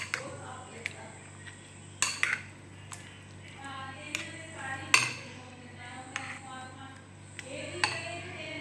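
A spoon stirs cucumber raita in a bowl, striking the sides in sharp metallic clinks every second or so over a low background hum.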